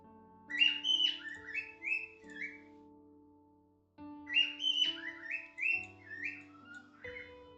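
Bright, warbling bird chirps and whistled trills come in two clear bursts, each lasting about three seconds and separated by a short gap, over a faint steady tonal hum.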